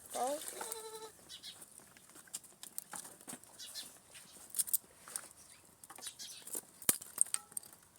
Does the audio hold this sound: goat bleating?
yes